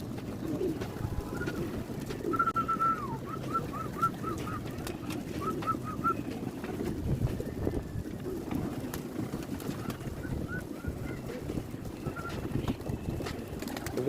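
Domestic pigeons coo in short repeated phrases at a rooftop pigeon tower, bursts of soft calls over steady low outdoor rumble and faint activity nearby.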